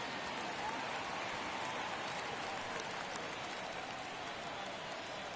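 Rain pours on a Chicago stadium crowd in a baseball video game, a dense, steady hiss of falling water with a faint crowd murmur underneath, unchanged throughout.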